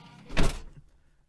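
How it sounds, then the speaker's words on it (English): A 1986 Pontiac Trans Am door swings shut with a single muffled thunk, close and moderately loud, then fades quickly into quiet. "Now, I shut the door,"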